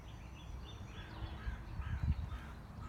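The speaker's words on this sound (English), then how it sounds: "obviously this is a bird or something" A crow caws faintly from a distance, a few rough calls over quiet low rumble, heard alone with no talking.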